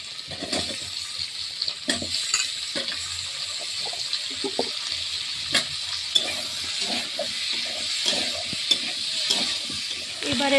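Cut potatoes frying and being stirred in a pan while cooking a Bengali chorchori with greens, pumpkin and prawns, a steady sizzle with repeated scraping stir strokes throughout.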